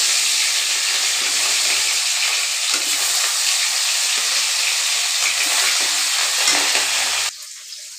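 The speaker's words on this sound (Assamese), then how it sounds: "মাছখিনি ফ্ৰাই কৰি ল'ম অলপ" Fish sizzles and spatters steadily in a hot pan, a loud dense hiss that runs unbroken for about seven seconds before dropping away abruptly.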